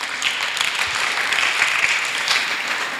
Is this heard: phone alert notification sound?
no